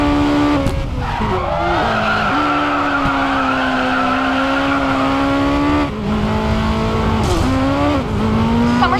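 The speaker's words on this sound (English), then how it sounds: "He's skidding out." A race car in the video game Racing Master skids with long screeching tire squeals over a revving engine, the squeal sliding in pitch and briefly breaking off before resuming, loud and close.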